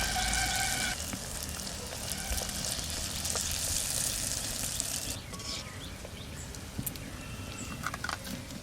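Tomato malpua batter frying in hot oil in a pan, a steady close sizzle with occasional soft scraping and stirring clicks from turning the pieces.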